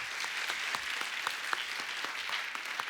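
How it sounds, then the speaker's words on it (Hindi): Studio audience at The Kapil Sharma Show applauds in a continuous, even burst of many hands, with sharp individual claps poking through the steady wash. "और एक बार जोरदार तालियां हो जाएं अजय सर और काजल मैम के लिए।"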